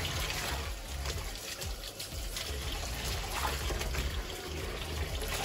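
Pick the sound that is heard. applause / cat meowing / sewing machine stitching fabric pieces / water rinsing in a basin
water rinsing in a basin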